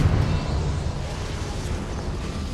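A Confringo blasting spell goes off in a Hogwarts video game as a loud, sustained rumbling blast that roars evenly for a couple of seconds with no voices.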